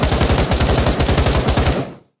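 An AK rifle in the VR shooter Pavlov VR fires a loud, continuous automatic burst of rapid, evenly spaced shots for about two seconds, then stops abruptly.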